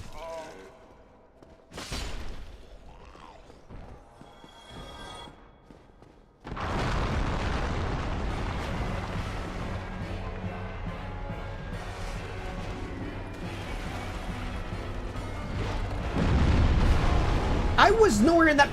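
Video game explosion bursts in suddenly after a quieter stretch with scattered sounds, then continues as a loud, sustained roar and rumble that swells further near the end.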